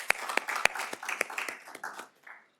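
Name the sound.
applause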